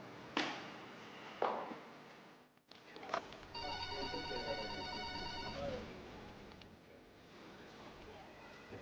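A telephone rings unanswered, its bell-like ringtone trilling for a few seconds amid faint bumps and clatter, with a brief hard knock earlier.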